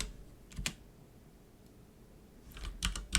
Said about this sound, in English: we can type here disk part